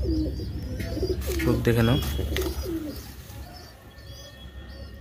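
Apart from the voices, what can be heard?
pigeons cooing at a pigeon farm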